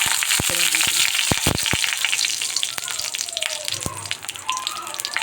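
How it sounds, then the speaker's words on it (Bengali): Black cumin seeds and dried chillies frying in hot oil in a kadai, giving a loud, close, continuous sizzle with sharp crackles and pops, and a few faint stirring taps. "আমি কালো জিরে আর শুকনো লঙ্কা"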